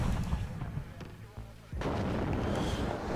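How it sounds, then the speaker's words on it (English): Artillery fire in the real-time strategy game WARNO, a series of booming blasts and rumbling impacts over steady battlefield noise, with a louder sustained roar in the second half. "Nice clean kill though with the artillery"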